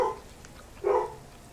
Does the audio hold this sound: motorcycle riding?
no